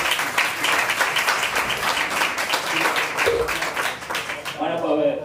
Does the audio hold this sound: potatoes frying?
no